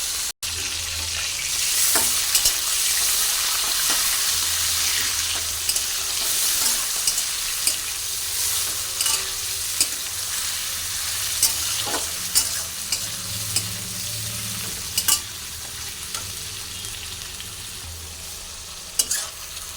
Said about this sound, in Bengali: চিংড়িটা দিয়ে দিলাম ভালো করে লাল করে ভেজে নেব